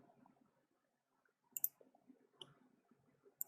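Sharp button clicks on a VR controller, a few isolated taps spread out with quiet gaps between them, close and fairly faint, with soft low rumbling in the background.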